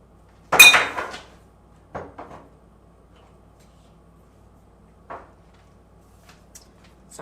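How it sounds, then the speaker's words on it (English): A salt shaker nearly dropped in a home kitchen makes a sharp, loud clatter, followed by a few softer knocks and clinks of handling, in an otherwise quiet room. "almost dropped the salt shaker on the floor."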